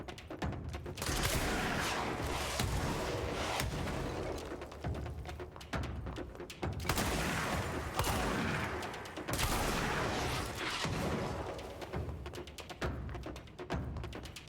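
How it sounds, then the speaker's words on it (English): A shotgun fires repeatedly in the video game Control, heavy booming blasts in irregular bursts with a dense, rumbling tail between shots, moderately quiet overall and with no voices. "Alright, so it's a shotgun."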